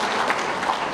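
Applause from a crowd at a political rally in Jharkhand, a brief, continuous burst of many hands clapping at moderate loudness.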